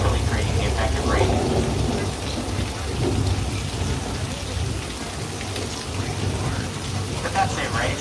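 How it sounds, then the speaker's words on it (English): Artificial movie rain from sprinklers mounted high above a Universal Studios tour set, a loud dense patter of falling water with a deep rumbling undertone, steady throughout with brief scattered voices. "This rain is a result of some sprinklers strategically placed at high points."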